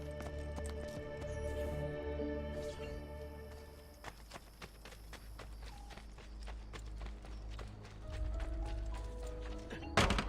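Horses clip-clopping in Assassin's Creed: Brotherhood, a rapid, regular run of hoofbeats that starts partway through over a low ambient hum and stays moderately close.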